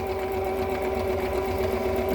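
A sewing machine stitches back and forth over the side seam of a fabric Regency reticule, with a steady, continuous motor hum at close range and no talking.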